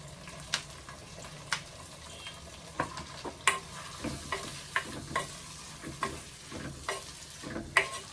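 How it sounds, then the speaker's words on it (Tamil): Onions, tomatoes and green chillies sautéing in oil for a fish curry, a soft continuous fry broken by regular scraping stirs and light knocks of a spoon on the pan, fairly quiet and without talk. "நல்லா இந்த எண்ணெயில் நல்லா வதங்கணும்"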